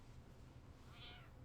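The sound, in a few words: cat meowing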